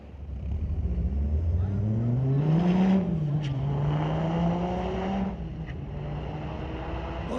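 A 2014 Dodge Viper launching down a drag strip at a street-legal drag night, its engine note climbing loudly through the revs over several seconds before easing off as the car pulls away, with crowd and track ambience behind.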